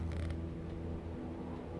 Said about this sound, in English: oh, that noise is all the stuff closing behind me.